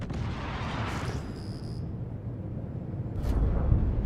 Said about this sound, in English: The Tib can also barrage the Percy with missiles.